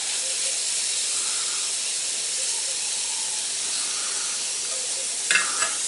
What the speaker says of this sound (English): And I'm just letting it fry a bit.